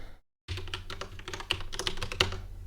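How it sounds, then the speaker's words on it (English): Fingers type on a computer keyboard, starting after a short silence with a quick, uneven run of close, crisp key clicks and a few sharper taps. "So let's type in my information here."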